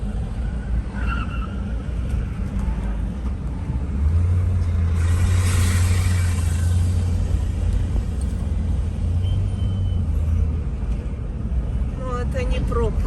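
Car interior while driving slowly in a long queue for the ferry in Yakutsk, a steady low engine and road rumble throughout, with people talking over it.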